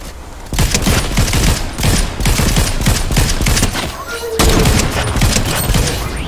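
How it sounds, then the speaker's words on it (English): Video game gunfire rattles in loud, dense automatic bursts that continue almost without a break. "Someone shooting."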